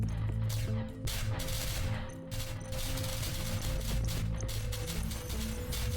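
Rapid enemy gunfire peppers the player in the Net.Attack() game, a steady mechanical stream of clicking, rattling shots running continuously over a droning game soundtrack.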